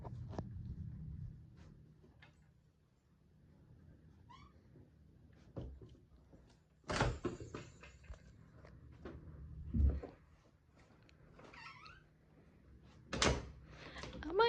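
Cupboard doors being opened and shut in a home, with scattered light knocks and rattles, then several sharp, close thuds as the doors swing closed, spaced a few seconds apart.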